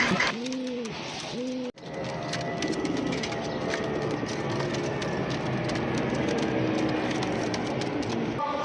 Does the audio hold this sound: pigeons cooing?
yes